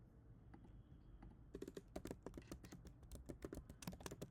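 Rapid typing on a computer keyboard while writing code, with a brief quiet stretch and then a dense run of sharp, close key clicks in an uneven rhythm, no voices.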